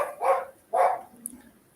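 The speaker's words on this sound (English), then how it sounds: "I know this is very annoying, dog." A dog barking indoors: two close, loud barks about half a second apart, followed by a brief faint yip, with no talking over them.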